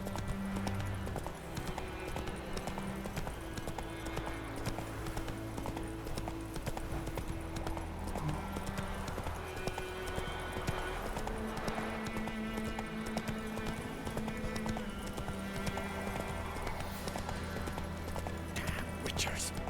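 Rhythmic clip-clop of horse hooves at a quick gallop in The Witcher 3, steady throughout, with background music and occasional talk over it.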